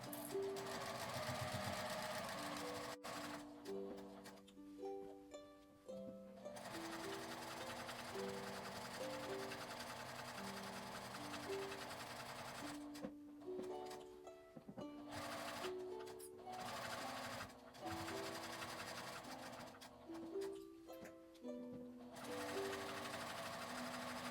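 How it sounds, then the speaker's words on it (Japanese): A sewing machine stitches along the edge of thin cotton sheeting fabric, its needle chattering in steady rhythmic runs with brief pauses between bursts, close and alone in a quiet room. "布の端を縫います。"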